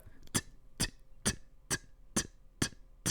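A mouth imitates a hi-hat with seven short, crisp, hissy ticks at an even pace, fairly quiet and close.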